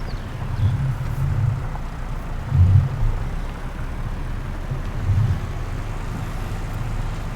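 A tractor engine in Farming Simulator 19, running on a farm with seasons, gives a steady low droning rumble throughout, with a few slightly louder swells, and no talking over it.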